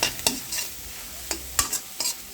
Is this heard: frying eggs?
yes